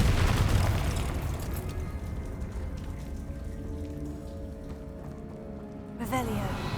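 A fiery Confringo spell blast goes off in the Hogwarts Legacy video game. A booming burst opens the clip and fades into crackling, rain-like debris, and a second sharp burst follows near the end.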